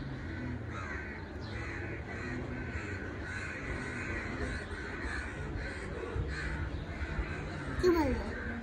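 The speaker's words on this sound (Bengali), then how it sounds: "কেন এই কাক তোমরা এত চিৎকার করো কেন?" Several crows caw loudly in a repeated series of harsh calls, evenly spaced over a steady outdoor background, with a brief sharper cry near the end.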